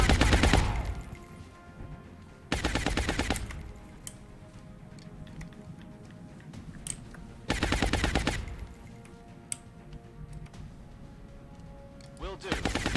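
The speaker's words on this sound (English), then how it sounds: "Suppressing fire." Machine gun suppressing fire in the video game XCOM: Long War, two long rattling bursts several seconds apart, loud and near, with quieter game ambience and talk between them.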